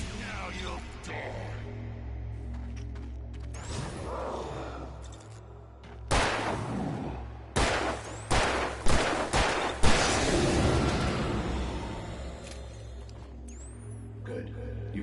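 Gunfire in the video game Alan Wake, several sharp loud shots from about six to ten seconds over a dark droning ambient bed, with speech-like voices around them.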